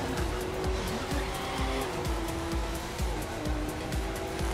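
A stock Nissan 370Z touring car races in The Crew 2, its engine droning loud and close with a rhythmic pulsing roar and a sustained tire squeal, no talk over it.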